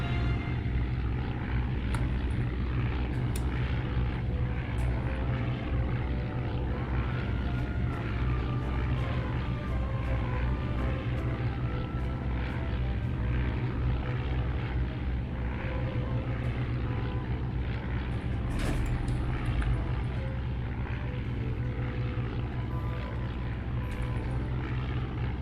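A 1917 biplane engine drones in flight in the Red Baron 3D video game, a loud, unbroken propeller roar that holds steady throughout with faint scattered clicks on top.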